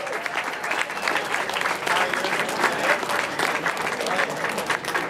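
A crowd applauds to welcome the Cobra Kai cast of The Karate Kid at a martial arts convention, a dense, steady wash of clapping held at full strength throughout, with faint crowd noise mixed in.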